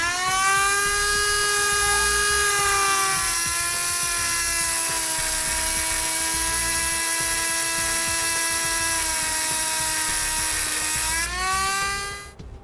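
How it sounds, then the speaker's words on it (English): A rotary tool cuts off a 13mm bolt on a 2012 Ford F-250. It gives a loud, steady high-pitched whine that dips slightly in pitch under load, rises again near the end, then stops. "I'm just going to cut it off using a rotary tool"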